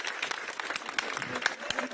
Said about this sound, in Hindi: बच्ची के लिए ताली बजाओ